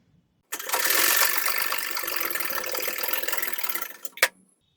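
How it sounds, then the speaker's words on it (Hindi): A sewing machine runs steadily through a skirt's lining seam for about four seconds, a dense mechanical whir that stops with a sharp click at the end. No one speaks. "और इसी तरह हम अस्तर में भी सिलाई लगा लेंगे।"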